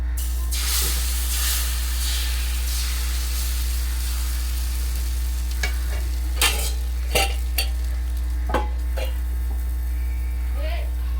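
Soft steady sizzle of egg batter on a hot dosa griddle over a constant low hum, with occasional scraping clicks and a voice speaking now and then.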